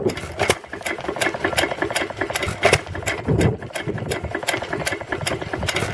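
An old FB Morse stationary engine drives a water pump, running at a steady idle with a rapid, regular knocking and clattering beat and a metallic rattle, close by and without talk.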